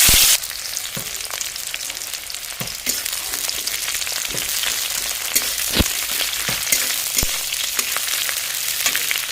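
Chopped onion fries in hot mustard oil in a kadai for a mourala fish dish. A loud, continuous sizzle is broken by sharp clicks from stirring, with a bigger burst right at the start.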